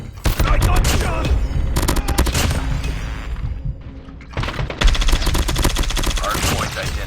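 Gunfire in a Call of Duty multiplayer Hardpoint match, dense bursts of rapid automatic shots and thuds in close, loud clusters with a short lull midway.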